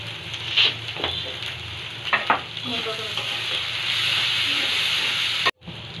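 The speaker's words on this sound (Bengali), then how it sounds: "মশলা কষাতে যে স্মেলটা আসছে, জিরা দিয়ে দিলাম 2 চামচ।" Spice masala with two spoons of cumin frying in a pan, a steady loud sizzle with intermittent stirring scrapes and clicks, continuous until an abrupt cutoff near the end.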